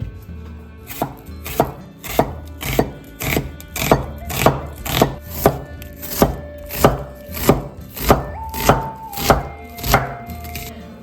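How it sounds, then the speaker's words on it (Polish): A knife dices a red onion against a cutting board, about sixteen even, crisp strikes in a brisk rhythm, close and alone. "Ja dodaję czerwoną cebulę. Pokroimy ją w drobną kostkę"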